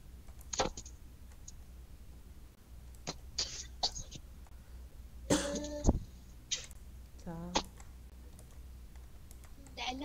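A few scattered coughs and throat clearing sound close and quiet, with keyboard-like clicking and soft whispery voices in a quiet room, the coughs in short separate bursts.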